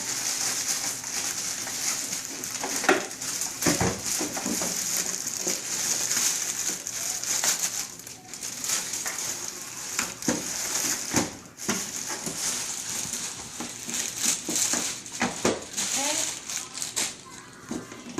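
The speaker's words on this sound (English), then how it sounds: "So we're going to have to unpackage the base here." An Aerogarden Ultra LED base is pulled out of its packaging, with crinkling plastic, rustling cardboard and sharp handling knocks scattered throughout while someone talks intermittently nearby.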